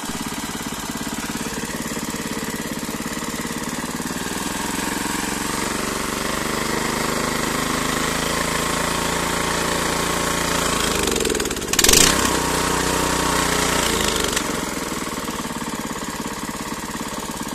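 A motor cultivator ploughing a garden plot runs steadily for the whole stretch, a loud, close, continuous small-engine chug that shifts in pitch briefly near the end, with no talk.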